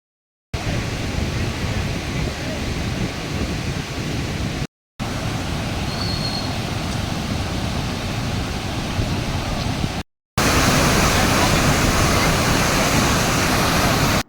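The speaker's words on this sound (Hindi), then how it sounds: "शिवनाथ नदी जोर शोर से बह रही है" Shivnath River in flood after heavy rain, a loud steady rushing roar of fast water heard alone, split into three segments by brief silent cuts.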